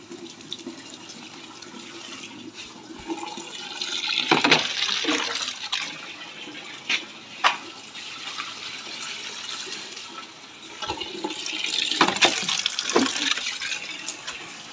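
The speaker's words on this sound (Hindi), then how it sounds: "ये देखें इस बाल्टी में पानी डालना है, ये डाला पौधे को" Water pours from a bucket onto garden plants in splashing bursts of varying strength, with quieter gaps between the pours.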